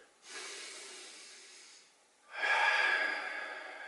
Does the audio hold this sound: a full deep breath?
yes